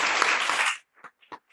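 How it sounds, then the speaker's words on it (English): Audience applause for poetry prize winners at a literary forum, a dense burst of clapping that cuts off after under a second, followed by a few scattered, fading claps. "let's give a big round of applause for all the winners"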